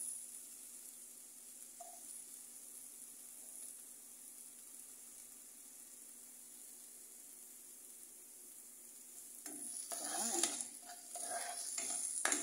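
Onions browning in a pan for a sardine dish give a steady, quiet sizzle with faint stirring, which grows louder and busier near the end as the pan is worked.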